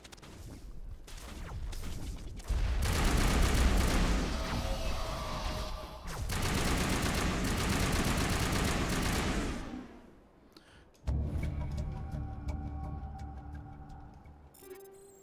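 Gunfire in the video game Mass Effect, dense automatic bursts and crashing impacts in long stretches, then a lull and a quieter passage of game sound.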